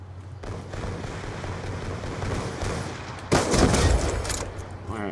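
Video game gunfire rumbles under a dense background of noise, then a sudden louder burst of shots hits with a boom and lingers as a rough roar.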